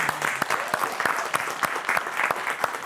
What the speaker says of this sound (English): Give yourselves a warm round of applause.